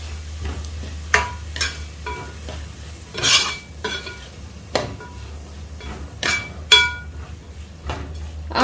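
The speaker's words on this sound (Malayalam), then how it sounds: "എല്ലാം കൂടി ഇളക്കി യോജിപ്പിച്ച് കൊടുക്കുകയാണ്." Green apple pickle being stirred with a spoon in a metal pot just after vinegar is added, repeated sharp scraping clinks and knocks in an irregular rhythm, close and fairly loud, with no talk.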